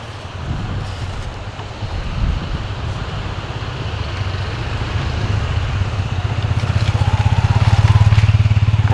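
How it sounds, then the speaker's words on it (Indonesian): Motorcycle on a road near a beach, engine rumble swelling louder as it draws close, mixed with heavy wind buffeting on the microphone. "Wih, ana motor."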